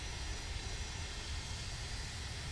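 Steady, even engine roar of an MD-80 airliner in a flight simulator, a constant broadband drone with no change in pitch and no talk over it.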